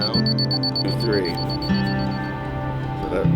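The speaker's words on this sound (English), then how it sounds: "Once you get within a tenth, I'll start beeping." Repeated electronic beeps sound in a steady pulsing pattern, with a person talking over them.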